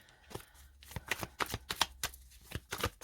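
Tarot cards being shuffled and laid down on a table, a quick series of crisp riffling flicks and soft slaps repeating close by in an irregular rhythm, with no talking.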